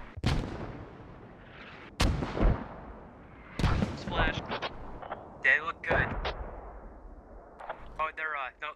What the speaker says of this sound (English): Let's go see where he's landing these mortars